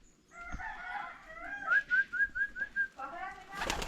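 A chicken clucks inside a village house in a quick run of short, evenly spaced notes, close by, with a brief rustling burst at the end.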